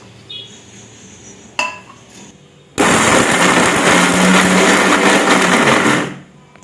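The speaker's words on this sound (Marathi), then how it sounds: "हे सगळं आता मिक्सरमध्ये मी एकदम बारीक करून घेते." Ginger and garlic being ground into a fine paste in a mixer grinder for a Marathi mutton dish, with a few clinks of the jar and lid before a loud, continuous motor whir that runs for about three seconds and then winds down.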